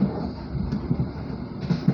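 Steady, loud rumble of the KA Dharmawangsa passenger train running at full speed, heard from inside the carriage with faint knocks from the wheels and track.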